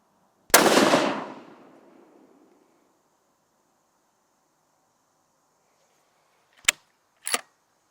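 Hunting rifle fired at a range: one loud, sharp shot with a long rolling echo, followed several seconds later by two more quick, fainter cracks in close succession.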